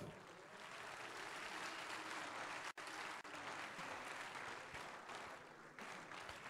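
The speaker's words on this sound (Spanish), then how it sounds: "Un aplauso para ellos, por favor" Dense, steady applause from an audience at the opening ceremony of Campus Party Mexico, a continuous wash of clapping that holds loud for the whole stretch, with one brief dip partway through.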